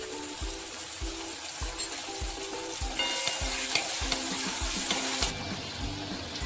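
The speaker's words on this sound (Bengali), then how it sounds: "2 চামচ ঘি দিয়ে সবজিগুলো ভেজে নেব। প্রথমে ডিমগুলো ভেজে নিচ্ছি।" Eggs fry in hot ghee in a pan for vegetarian fried rice, with a steady close sizzle and a regular scrape of stirring that keeps time throughout.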